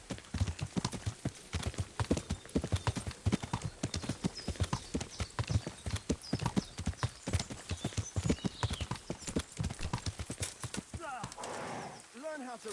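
Horse hooves clip-clop steadily in the medieval role-playing game Kingdom Come: Deliverance, a brisk, close rhythmic gait with an occasional whinny, running under near-continuous talk.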